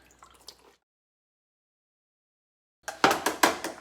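Wet soaked chilies dropped into a blender for Mexican sauce, a couple of soft drips, a pause of silence, then a cluster of close, squishy splats and liquid sounds.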